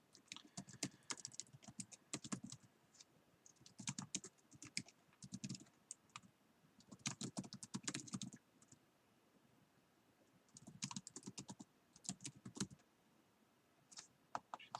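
Someone types on a computer keyboard in bursts of rapid clacking keystrokes with short pauses between them, close and moderately quiet against a faint background hiss.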